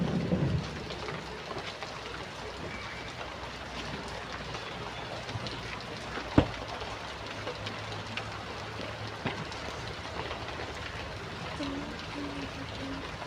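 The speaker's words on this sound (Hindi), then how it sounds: "बारिश हो रही है।" Steady rain falls outside throughout, a continuous close hiss with a brief sharp knock partway through and a faint voice at the very start.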